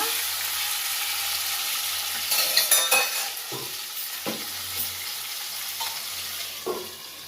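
Ivy gourd curry cooks in a covered pan, giving a soft steady sizzle broken by a few sharp clinks and scrapes, likely from a utensil or the lid, near and moderately quiet.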